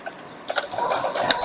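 A sewing machine stitches fabric for a quilt block, running in short quick bursts close by that build into a steady, slightly rising whir with faint mechanical clicks, and no talking.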